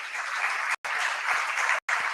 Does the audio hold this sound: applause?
yes